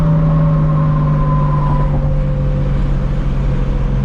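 A 1000HP Toyota Supra MK4 engine drones loud and close from inside the car, its rev tone holding steady and then dropping as the throttle eases, with no talk over it.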